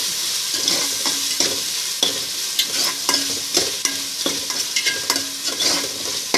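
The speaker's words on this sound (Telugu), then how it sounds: "ఇది కూడా ఆయిల్లో పచ్చివాసన పోయేంత వరకు కూడా వేపుకోవాలి" Ginger garlic paste frying in hot oil, sizzling steadily while a spoon stirs it in repeated scraping strokes, close up with no talking.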